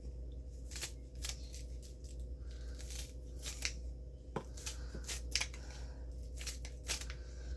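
Knife chopping onions on a cutting board in a home kitchen, sharp irregular cuts and taps at close range over a steady low background hum, with no talking.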